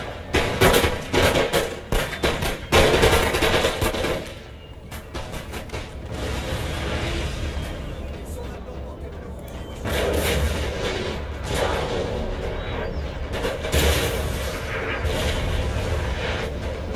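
Loud ragged volleys of musket gunfire and booming artillery in a strategy game, sharp cracks clustered early, then a sustained rolling roar of battle with further bursts of fire throughout.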